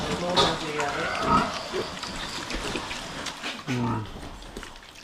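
Pigs, including a sow and her piglets, eat noisily at a farm pen, with close grunts, oinks and wet slurping bursts while people talk in the background.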